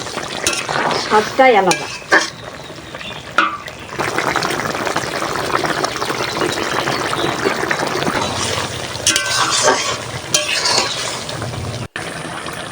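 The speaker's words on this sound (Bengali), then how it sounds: "দেখো কত সুন্দর জাল হচ্ছে, ঠকবক ঠকবক করে" Vegetable ghyat of pumpkin and Malabar spinach bubbling in a covered pot over a wood fire, a steady dense simmer and crackle running throughout, with brief spoken words and occasional clinks near the start.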